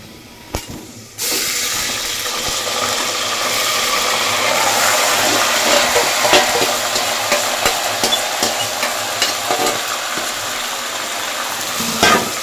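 Chicken for Hyderabadi chicken harees drops into a hot pan with a sudden loud burst of sizzling, then fries steadily while being stirred, with scraping stirs over the continuous hiss and no talking.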